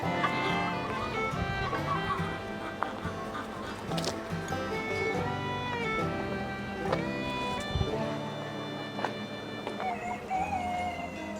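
Chickens cluck and chatter continuously in a busy sunny yard, several birds calling over one another amid steady outdoor background noise.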